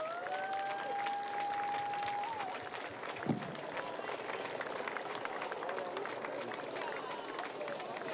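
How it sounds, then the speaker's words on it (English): An outdoor crowd claps at a flag unveiling during a sailors' parade and dock-out in Cardiff, steady applause of moderate loudness with a whistle-like tone at first and voices mixed in. "Let's have a round of applause."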